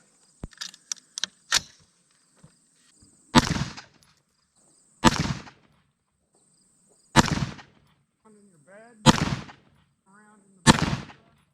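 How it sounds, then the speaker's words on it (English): Five sharp rifle gunshots, fitted with a Monstrum Raven optic, fired as a grouping string at a range, spaced roughly two seconds apart, loud and close with reverberant tails, after a few faint clicks and handling noises. "I'm going to shoot another 5-shot group down here and confirm we held 0 after all that."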